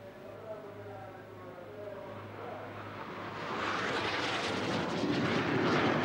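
Airplane flying, a broad engine roar that builds steadily from faint to moderately loud over several seconds, with a low steady hum underneath early on.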